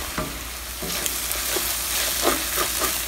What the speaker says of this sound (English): The onions have been sweating away in the pan for about 10 minutes, and they are getting softer